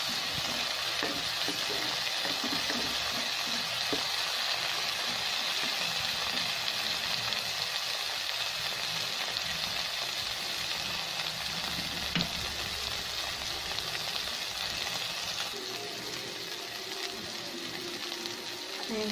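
Chopped tomatoes sizzle steadily in a hot pan for tuna pasta, a dense, even crackle that holds close and constant throughout, with no voices.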